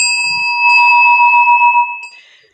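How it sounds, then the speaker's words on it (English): A hand bell rings once as a time warning during an afternoon conference session on stone quarries and rock-cut sites. The bright, clear, sustained tone sounds near and loud, then fades away over about two seconds. "I will ring my bell"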